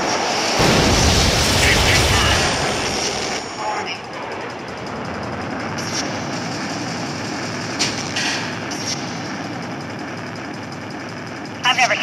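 Jet engine roar from fighter aircraft in the video game Ace Combat 3D Cross Rumble+, a loud broadband rush that swells early and then settles into a steady drone, with talk running over it.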